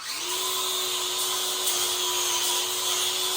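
A flap wheel on a power tool grinding a Jeep JK axle, a steady high whine that spins up at the start and holds loud and continuous throughout, with no talk.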